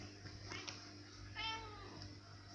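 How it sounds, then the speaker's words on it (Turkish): A cat meows indoors, several short close meows with one longer drawn-out call in the middle, quiet overall, with a person speaking softly nearby. "Kedin konuşuyor herhalde."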